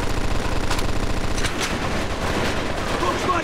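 Machine gun in a nest in Mafia 2, a fast steady rattle of loud close-range automatic fire with a few sharper cracks over the top, running the whole time.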